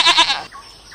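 A single short, nasal goat bleat from the video game Jurassic World Evolution 2 sounds up close, followed by a brief quieter trailing tone.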